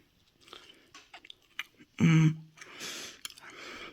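Close, crunchy bites on a Nestle Toll House cookie with crispy edges and a soft middle, a few sharp crunches between quieter chewing.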